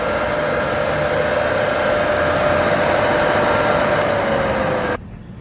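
The motor of a Sunnen CRG 750 connecting rod grinder spins up after replacement, a steady, loud hum with a constant whine, running evenly before cutting off sharply near the end into quieter room noise.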